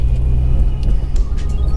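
A fun car's engine rumbles loudly and steadily from inside the cabin while driving, with road noise and a few faint higher whooshes passing by.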